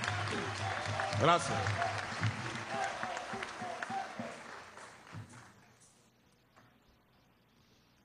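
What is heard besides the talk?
audience applause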